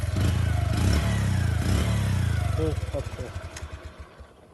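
A Bajaj Platina 100cc motorcycle engine runs close by with a steady low rumble, then settles toward idle with uneven pulsing in the final seconds.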